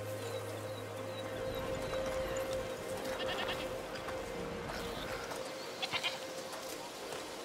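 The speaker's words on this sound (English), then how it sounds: "What's over there? Goats!" Goats bleat on a village hillside in the 2022 video game A Plague Tale: Requiem, their repeated cries clear and mid-distance over a steady ambient game backdrop.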